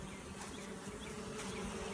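A honey bee swarm hums and buzzes around a hive box on a porch, a soft continuous drone of many insects with no voices.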